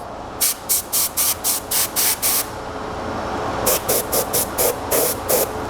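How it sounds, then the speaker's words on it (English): Short, sharp hissing spray bursts blow dust off printing equipment: a quick rhythmic run of about eight puffs, a pause, then about six more, close and loud over a steady background hum. "I'm going to spray this to make sure that I'm getting all the dust off"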